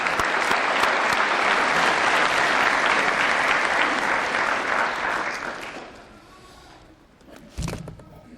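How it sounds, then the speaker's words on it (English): A crowd applauds at a Kern County Fire Department training event, a loud, dense round of clapping that holds for several seconds and then fades out, followed by a short knock or thump. "Let's give them a round of applause."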